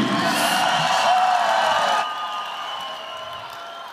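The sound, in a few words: arena crowd applauding fighters after a bout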